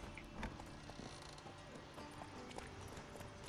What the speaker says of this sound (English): All the horses are calm.